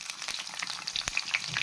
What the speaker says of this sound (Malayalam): വെളിച്ചെണ്ണ ചൂടായിട്ട് നമുക്ക് അരിഞ്ഞ് വെച്ചിരിക്കുന്ന ഉള്ളി ഇട്ട് കൊടുക്കാം.